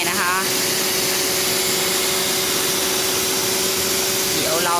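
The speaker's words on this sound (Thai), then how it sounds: "ฉีดล้างความสะอาดแผงแอร์" A pressure washer sprays to clean the AC condenser of a Suzuki Ertiga with about 250,000 km, producing a loud, steady rushing hiss that runs unbroken throughout.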